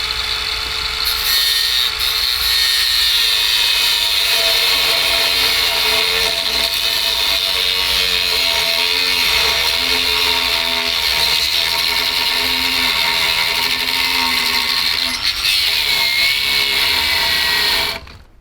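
Power tool trimming parts off a Big Block Briggs mini bike with a longitudinal engine, giving a loud, continuous high-pitched whine with steady grinding for about seventeen seconds before it cuts off.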